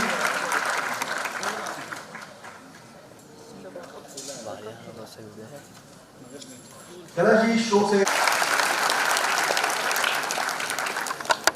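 An audience at a stage music event claps loudly at the start, fades under a host's talk in the middle, then surges back into sustained, full applause that runs to the end.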